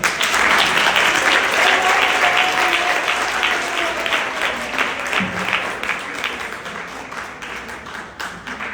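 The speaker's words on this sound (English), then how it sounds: "let us welcome with a warm hand clap and a song" A church women's assembly audience bursts into loud, sustained applause, a dense wash of many hands clapping at once that gradually thins and softens, with faint voices mixed in.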